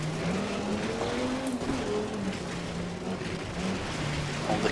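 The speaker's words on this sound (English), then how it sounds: "Well, the car at least sounds great." A rally car engine in the video game Really Amazing Cars Rally 2023 drones and shifts pitch continuously at close range, revving up and down over road noise, with no voices.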